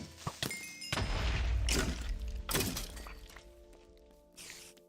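Creeper explosions in the Minecraft video game, a few sharp bursts and booming thuds with crackling debris, moderately loud and spaced across several seconds, tapering into quieter rumble.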